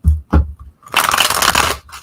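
Tarot cards are shuffled by hand during a reading, giving two short thumps followed by a longer papery riffling burst of about a second, close and fairly loud.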